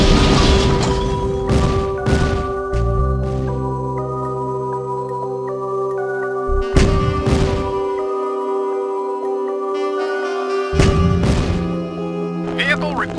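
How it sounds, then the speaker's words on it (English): An ion cannon strike in the Command & Conquer video game lands as several heavy booming impacts with deep thuds, spaced apart among game music and sound effects. "Ion cannon charging."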